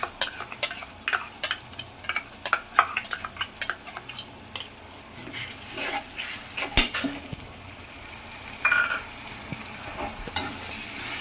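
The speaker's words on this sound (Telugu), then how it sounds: "మసాలా అయితే బాగా వేగాలండి, పచ్చి వాసన పోయే వరకు" A masala of coriander seeds, cinnamon, cloves, ginger and garlic fries in plenty of oil for a small fish curry, with a close, crackling sizzle broken by repeated utensil scrapes and clinks against the pan.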